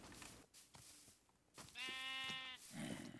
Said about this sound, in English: All the sheep are named Nielsen, apparently